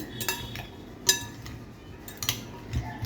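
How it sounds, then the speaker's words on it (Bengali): A spoon scrapes and clinks against the sides of a bowl as salad dressed with vinegar is stirred, a few sharp metallic ticks spaced irregularly over a quiet background. "এখন খুব ভালো করে এটাকে নেড়ে চেড়ে নিচ্ছি"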